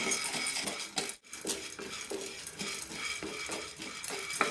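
A utensil scrapes and stirs through dry chana dal and toor dal roasting in a pan over medium flame, with steady, repeated strokes and light clinks, a brief pause near the start, no voices.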